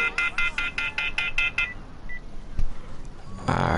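Rapid series of about eight short electronic phone beeps in the video game Watch Dogs 2, evenly spaced like dialing tones, followed by a lone blip, a soft thump and a burst of noise.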